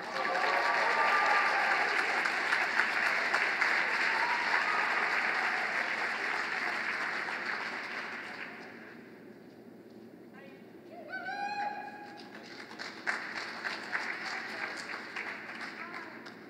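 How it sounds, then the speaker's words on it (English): Audience at a school awards ceremony applauding in a dense, steady wash of clapping that fades out, followed by a short electronic chime and the first words of a voice. "so let's cheer loud for Ms."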